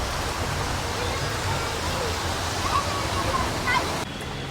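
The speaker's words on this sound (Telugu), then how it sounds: "చూసారుగా మా విజయవాడలో వాన ఎలా పడుతుంది" Heavy rain pours down on a flooded street in Vijayawada in a steady, dense roar, with water rushing continuously close by.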